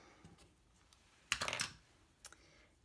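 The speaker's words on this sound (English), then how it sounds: "And then I'm going to cut that with my scissors." A quick cluster of crisp snipping clicks from scissors cutting metallic thread, then one more short snip, close and quiet otherwise.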